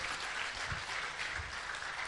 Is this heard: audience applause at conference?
yes